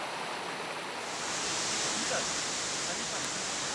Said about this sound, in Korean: 30여 미터 높이에서 떨어지는 웅장한 물줄기가 시선을 사로잡는 이곳은 연산폭포인데요